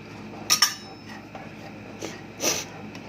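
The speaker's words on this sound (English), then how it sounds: "We're going to just stir this as we go" A spoon stirs barbecue sauce ingredients, including dry mustard, in a bowl, with a few brief close clinks of metal against the dish and faint scraping between them, no talking.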